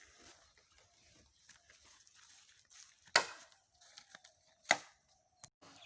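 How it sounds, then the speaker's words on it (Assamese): Bamboo being cut for a raft house outdoors: three sharp, separate chopping strikes spaced a second or so apart over a quiet background of faint rustling. "এয়া ভেলাঘৰৰ বাবে লৈ অনা বাঁহ কাটি থকা হৈছে।"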